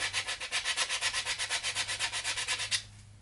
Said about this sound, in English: starting with a little bit of 220, I'm lightly sanding